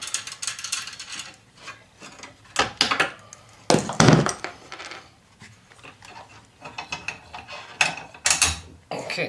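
A ratchet wrench removes half-inch bolts from a Coleman generator, with bursts of rapid clicking from the pawl and a few louder metallic knocks, close up.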